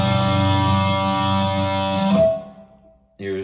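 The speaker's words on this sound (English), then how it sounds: "It's a patch with different brown sound amps." An electric guitar played through a Fractal FM3 on a brown-sound amp patch rings out as a loud, sustained distorted chord that decays and cuts off, followed by a brief new attack at the end.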